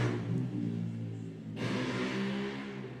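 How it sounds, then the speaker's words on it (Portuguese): A motorcycle passes by with a humming engine whine whose pitch shifts as it goes, moderately faint, then swells again partway through as it moves past; nobody speaks. "Estão ouvindo a moto?"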